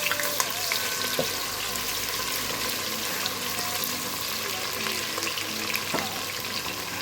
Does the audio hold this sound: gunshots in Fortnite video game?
no